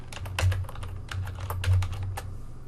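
Rapid keystrokes on a computer keyboard, entering a search term in a WordPress plugin search box, come in two quick bursts of close, crisp clicks with a short pause between them and no voices.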